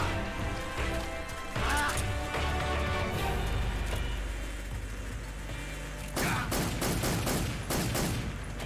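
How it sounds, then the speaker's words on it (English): Rapid bursts of gunfire ricochet in Metal Gear Solid 3: Snake Eater, clustered sharp cracks over a dense game soundtrack, with a heavier volley near the end. "now he's ricocheting his shots"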